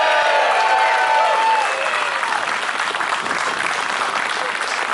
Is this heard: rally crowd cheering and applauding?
yes